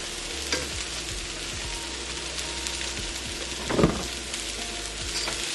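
Seasoned cabbage sizzling and frying in a pan while being stirred, a steady crackle throughout with a brief louder scrape of the spoon near the end.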